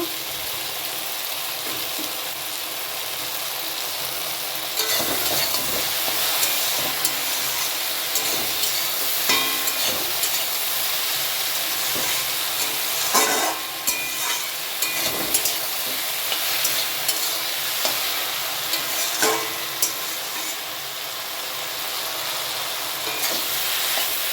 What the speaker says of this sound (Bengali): ভেজে নেব। এখানে টমেটো দেব।